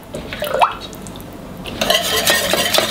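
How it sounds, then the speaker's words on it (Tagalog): Gulaman powder is whisked in water, giving a close, wet swishing and light clinking against the pot that turns busier and brisker in the second half. "Then tunawin lang natin. I think kailangan mo ng whisk"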